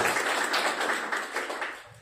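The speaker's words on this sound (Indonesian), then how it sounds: "Tepuk tangan dong buat Pak Andri." Applause from an audience at a formal Indonesian ceremony, a dense patter of many hands clapping at moderate distance, fading slightly toward the end without talk.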